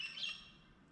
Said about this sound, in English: that's enough of that bird